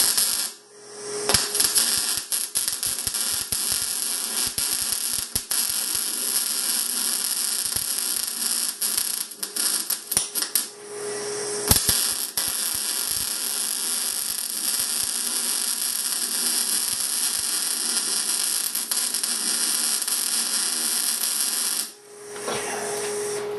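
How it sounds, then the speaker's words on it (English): An R-Tech Pro-MIG250-1 MIG welder lays beads straight onto rusty metal, a loud, continuous crackling hiss in three long runs separated by brief pauses, with pops at each arc strike. "Once it starts welding, it sort of burns the rust off"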